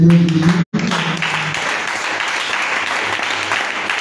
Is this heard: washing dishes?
no